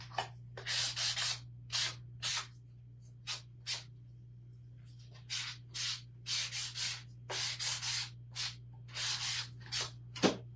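A handheld sander grinds carrots into slivers, making repeated short bursts of buzzing abrasion with brief pauses between them, over a steady low hum.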